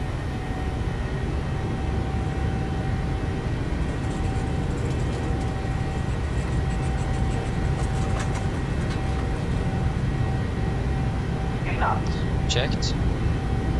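Steady, loud roar of PMDG 737-800 engines at takeoff thrust in Microsoft Flight Simulator 2020, a constant broadband drone with a faint whine, while a voice briefly speaks over it.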